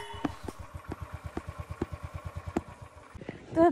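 A motorcycle engine runs at high altitude after a hard start, giving a quick, even chain of low thumping pulses that are fairly close and moderately loud, with a short voice-like sound near the end.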